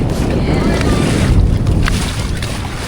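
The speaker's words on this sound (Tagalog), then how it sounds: "Lakas ng hangin." Strong wind buffets the microphone with a loud, low roar, over rushing water sounds, out on open water while parasailing at Boracay.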